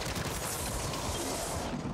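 Sentry gun firing in MW3 Zombies, a dense, continuous rattle of rapid automatic gunfire that stays loud and steady for the whole stretch, with no talking.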